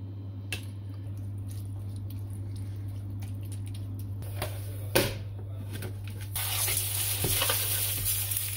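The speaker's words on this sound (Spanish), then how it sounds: "Ponemos a calentar lo que es la sartén." Oil heating in a frying pan for a spinach okonomiyaki, a quiet steady sizzle with a few soft clicks and knocks, growing louder and brighter toward the end, no talking.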